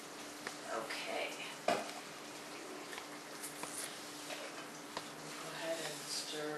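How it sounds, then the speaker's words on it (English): Shepherd's pie filling is stirred in a wok, giving soft scraping and light sizzling throughout with a few sharper clanks. "Go ahead and stir it all up."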